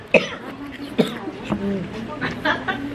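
Several short, sharp coughs and throat-clearing bursts spaced irregularly among people chatting nearby.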